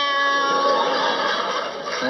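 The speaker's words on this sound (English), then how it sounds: "like almost like a sad cat sound. Like a cat that's going through pain." A cat meowing as if in pain, a loud, sustained, whining wail that holds steady for about two seconds with a slightly wavering pitch, close and alone.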